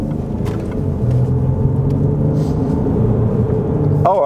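A salvage Range Rover Sport drives along with a steady low engine rumble and road noise heard from inside the cabin, fairly loud and continuous throughout.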